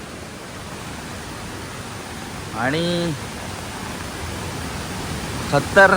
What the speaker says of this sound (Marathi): तर आता आपण धबधब्याजवळ पोचलो आहोत